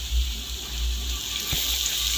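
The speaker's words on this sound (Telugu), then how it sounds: "ఆనియన్స్ అన్నీ కూడా బాగా వేగాయి కదండి" Onions frying in a pan with turmeric and salt for a spinach omelette, a steady close hiss of oil with a low hum underneath and one brief clunk, no talking.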